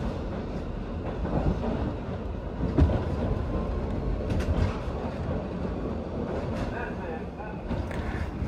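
A New York City subway train rumbles and rattles along the tracks, a steady loud roar with clattering and brief squeals, heard up close.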